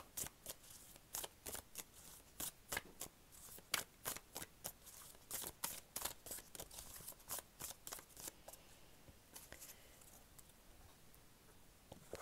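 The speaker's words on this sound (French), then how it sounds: "nous allons aller chercher une petite carte de notre intuition" Oracle cards are shuffled by hand in a quick rhythmic series of crisp riffling swishes, close and fairly quiet, with brief pauses between bursts and no talking.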